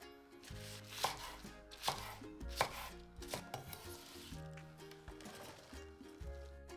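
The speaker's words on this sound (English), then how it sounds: "Cut 2 ounces of spring onion into sections." A knife cuts spring onion into sections on a board in a series of sharp, close chops at an uneven rhythm, five or six distinct strikes with quieter taps between, with no speech.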